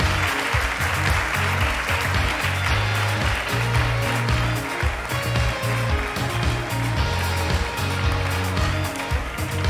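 Awards ceremony audience applauding loudly and continuously, a dense wash of clapping layered with steady rhythmic music beneath it.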